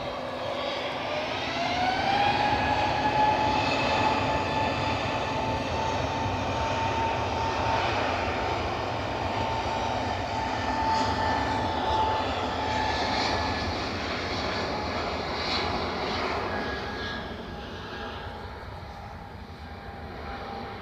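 A British Airways airliner takes off from Edinburgh Airport, its engines roaring loudly and steadily with a rising whine, holding strong for most of the pass before easing slightly as it climbs away.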